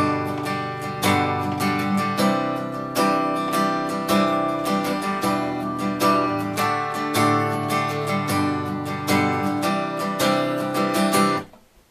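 Steady rhythmic strumming on an acoustic guitar plays the chorus chords of a song in a busy down-up pattern, close and even for about twelve seconds, ending abruptly with no speech.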